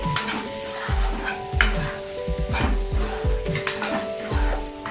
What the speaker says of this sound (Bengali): এবার দিয়ে দিচ্ছি খুব ভালোভাবে কষিয়ে নেব আমটাকে